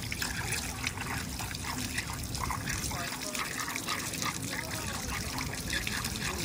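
Running water rinses out the inside of a raw squid on a dock in Seattle, a steady trickling splash with speech over it throughout.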